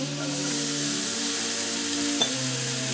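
Chives sizzling in melted butter in a pan, a steady soft frying hiss throughout with a faint clink partway, heard close and without talk.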